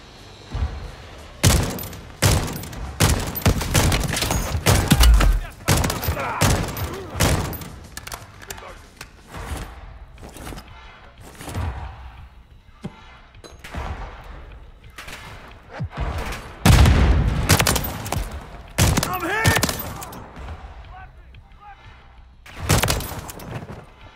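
Call of Duty Modern Warfare III Zombies combat with repeated loud bursts of gunfire and heavy grenade thuds in uneven clusters, with voices calling out between the volleys.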